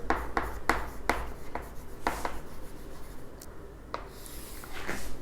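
A pen writes column headings in an accounting ledger, with scratchy strokes and taps in an uneven rhythm, close and fairly quiet, and no one talking.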